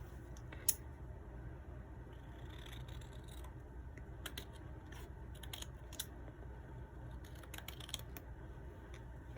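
Scissors snip through paper for a double-page scrapbook layout, a scattering of short, crisp clicks and cuts over a quiet room with no talking.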